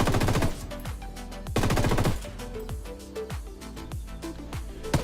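MK249 machine gun firing in Ghost Recon Wildlands, loud sustained automatic bursts with short pauses between them and rattling echoes, no talking.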